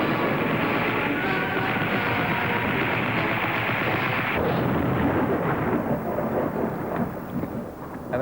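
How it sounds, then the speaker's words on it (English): A heavy, sustained rumble for an exploding-wall visual effect in a BBC studio, loud and continuous like thunder and slowly fading near the end, with no voices. "An exploding wall?"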